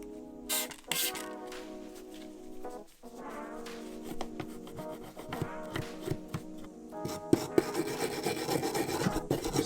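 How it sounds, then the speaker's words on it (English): A brass wire brush scrubs rusty chrome on a Shimano bike derailleur, making repeated rasping, scratchy strokes with small metallic clinks. The strokes are close and uneven in rhythm and grow busier toward the end. "So I'm just using a brass wire brush here on the chrome."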